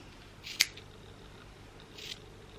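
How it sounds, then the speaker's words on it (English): Scissors cut through the yarn loops of a pom pom tassel, with one sharp close snip followed by a softer snip a moment later in a quiet room. "I'm going to get my scissors, and I'm basically just going to chop through all the loops"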